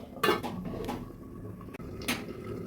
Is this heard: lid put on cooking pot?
yes